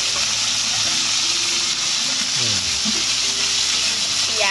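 Fish sizzle loudly in hot frying oil, a dense, steady crackle and hiss filling the whole stretch, with faint scraping as the pieces are stirred.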